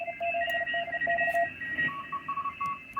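Several CW Morse code signals on a radio receiver set to a wide 3K filter overlap at different pitches, steady keyed beeps and dashes over a hissy, crackling noise floor.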